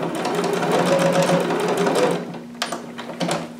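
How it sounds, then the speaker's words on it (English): A sewing machine back stitching a seam on a harem jumpsuit, running in a fast, close, rattling burst, then stopping briefly before a few short stitches and clicks. "Then stitch back to your original stitching line. Back stitch a little."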